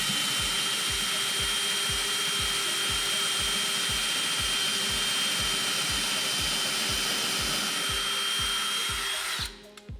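A drill runs into a wooden wall stud while a floating shelf is hung, giving a steady hum with an even, rapid pulsing throughout, close and constant until it cuts off at the end.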